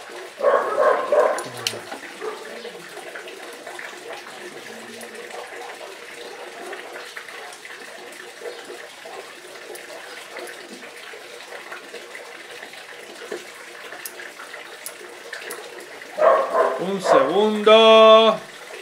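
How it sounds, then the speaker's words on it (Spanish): Outdoor scene where dogs bark at the neighbour's dogs in a burst at the start and again near the end, with someone talking over a quieter middle stretch. "Mis perros siempre tienen la guerra con los perros del vecino."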